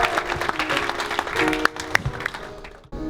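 A church congregation applauds in a dense burst of clapping for about three seconds, close and lively, with some cheering voices mixed in before it breaks off.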